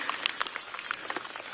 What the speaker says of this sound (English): I'm sure now you can hear the rain starting to fall.